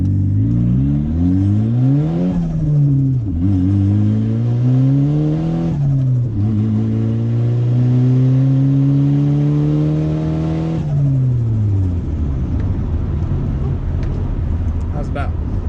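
Hard first-gear acceleration in a turbocharged car, engine revving in rising and falling sweeps across several gear pulls with tires spinning, loud and close, then settling into a steady lower drone.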